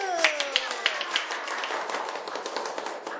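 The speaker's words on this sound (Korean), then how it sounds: "박수!" A group of children claps in a classroom, a burst of quick, close, overlapping hand claps that stays dense and gradually thins over a few seconds.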